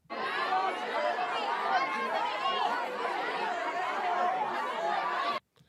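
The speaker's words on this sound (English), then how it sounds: "some crowd noise, right?" A dense crowd murmurs and chatters continuously, with scattered chuckles and snickers, at steady loudness throughout before cutting off abruptly; the sample comes from Splice.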